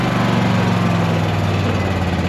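A small engine on a V Ride vehicle with a voltage regulator problem is revved steadily during a charging test, producing a loud, continuous drone with a low harmonic hum that holds throughout.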